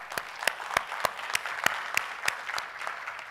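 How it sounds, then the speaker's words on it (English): An audience at a Mumbai tech conference gives a round of applause, with a steady even patter of many hands clapping together under a rhythmic pulse of sharper claps, all close and loud. "round of applause for that"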